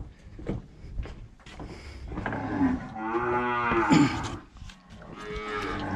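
Cows moo during cattle handling on a farm, one long, loud, drawn-out moo near the middle with shorter lowing and clatter of pens around it, with no speech.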